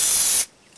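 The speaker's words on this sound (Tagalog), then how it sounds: "Gagamit tayo ng cooking spray." Cooking spray hisses in one loud, steady burst onto a bowl being greased for white bread dough, then cuts off abruptly into quiet.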